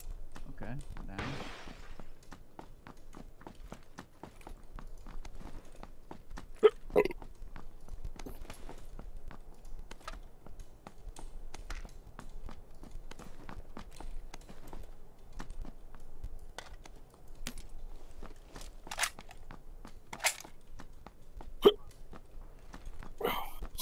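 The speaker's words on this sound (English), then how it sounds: "Sorry, I got the hiccups." Repeated hiccups from a person during a squad match in a video game, brief sharp catches scattered across the stretch amid game sounds and footstep-like clicks.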